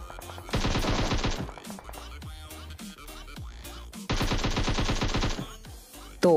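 Automatic gunfire in PUBG Mobile, two sustained bursts of rapid shots separated by quieter game noise, loud and close.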